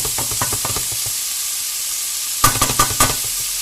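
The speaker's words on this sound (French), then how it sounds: "on fait revenir un petit peu les jambons de Bayonne" Bayonne ham and onions browning in a pan for poulet basquaise give off a steady, close sizzle and hiss. Scraping stirs tick through the opening second, and a cluster of louder utensil knocks lands near the end, with no talking.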